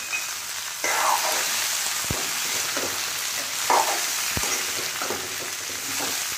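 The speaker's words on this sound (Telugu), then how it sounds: "ఇప్పుడు దొండకాయలు వేస్తున్నాము. దొండకాయలు కలుపుతాను." Ivy gourd pieces go into a hot frying pan with cumin, green chilli and onion, giving a loud steady sizzle with a few sharp spatula scrapes and stirring surges, no talking.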